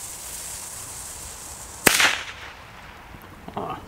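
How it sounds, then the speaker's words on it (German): A single sharp bang from a PyroArt friction-ignited firecracker cracks out against faint background hiss, followed by a brief crackle and a smaller pop. "Wir fangen an mit dem Reibkopfknaller von PyroArt."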